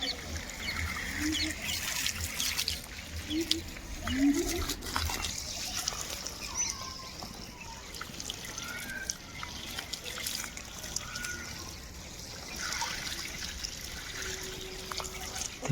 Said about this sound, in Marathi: हे पॅरापीट बांधून झाले आणि सध्या मी पॅरापीटवर पाणी मारत आहे